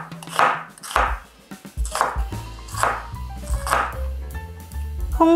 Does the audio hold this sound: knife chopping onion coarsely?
yes